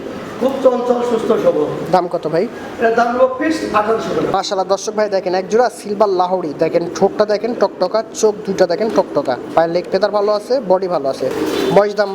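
White German Beauty fancy pigeons coo repeatedly at a pigeon farm, giving soft, rolling calls close by. People talk throughout, over and between the cooing.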